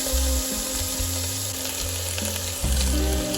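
Bok choy and minced meat stir-frying in a hot pan, a continuous close sizzle under a low hum, with brief stirring scrapes partway through.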